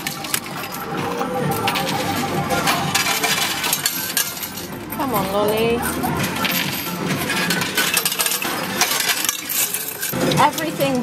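Coins and prizes tumble in an arcade coin pusher machine, a dense, constant metallic rattle and clatter over loud arcade noise, with brief electronic tones rising in the middle.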